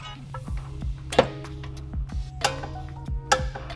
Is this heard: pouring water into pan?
no